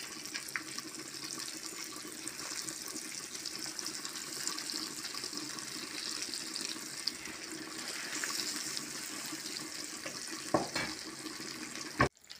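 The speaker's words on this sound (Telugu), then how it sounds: "ఆయిల్ హీట్ ఎక్కింది, చేపల ముక్కలు ఇందులో వేసుకోవాలి." Pieces of streaked spinefoot fish fry in hot oil with a steady, even hiss and crackle that runs unbroken and close, ending with a sharp clatter, and no voices.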